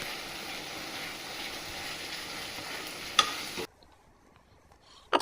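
A spice masala fries in oil with splashes of hot water, a steady close sizzle under slow stirring that suddenly cuts off, leaving near silence before a brief burst of scraping returns.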